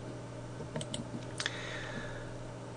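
Soft keystrokes on a computer keyboard during 3D modelling work in Blender 2.6, a few quiet clicks and a delete key press over a steady low electrical hum.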